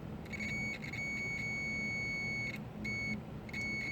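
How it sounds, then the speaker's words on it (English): A Nespi case with a safe shutdown mod for a Raspberry Pi gives off thin, high electronic beeps, a run of short pulses followed by longer tones with brief gaps, fairly faint over a low background hum. "So it's going to give you a little beeping sound."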